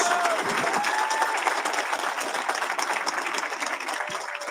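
Sustained crowd applause at a graduation ceremony, a dense wash of many hands clapping at moderate loudness, steady throughout with faint crowd murmur and a brief tonal whistle early on.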